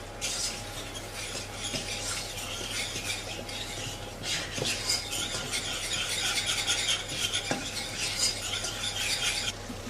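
Soft, continuous scraping and stirring as flour is roasted in melted butter in a pan, with occasional light clinks of the utensil against the pan, close and steady.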